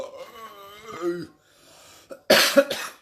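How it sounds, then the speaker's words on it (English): Someone talks with a hoarse voice, then after a short pause breaks into two loud, harsh coughs close to the mic. "still coughing, still crook."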